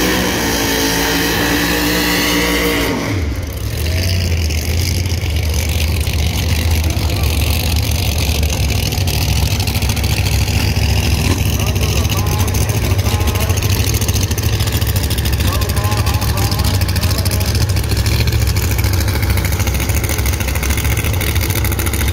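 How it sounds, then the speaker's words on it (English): Supercharged Camaro pro-mod drag car on nitrous, its engine bursting into a loud, sustained roar after a brief lower rumble, then holding a heavy, throbbing drone close by for the rest of the time. "Here's the blown Camaro."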